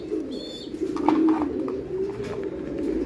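A Van den Broucke pigeon gives a low, soft, drawn-out coo close by, with a faint chirp behind it.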